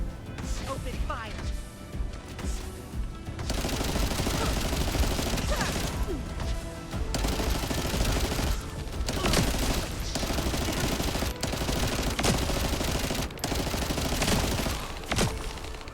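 Dense, sustained video game gunfire, rapid overlapping bursts of automatic fire and explosions running almost nonstop, loud and busy, with a voice talking over parts of it.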